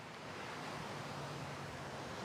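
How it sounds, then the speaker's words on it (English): Steady broadband rush of water moving along a man-made river channel, continuous and fairly faint, with a wind-like hiss and no voices. "This is Leek River, this is a man-made river."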